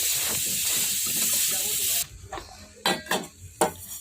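Nigella seeds heat in a pan with a loud, steady hissing sizzle for about two seconds, then the sizzle drops away and quieter clatter and faint voices follow.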